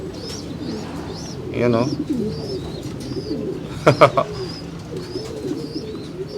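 A male pigeon courting a female coos in repeated soft, rolling throaty calls that overlap with other cooing birds nearby, while someone speaks briefly over them.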